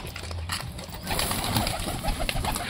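Pet pigeons coo softly nearby while being fed, low throaty burbles over a steady background rustle and flutter.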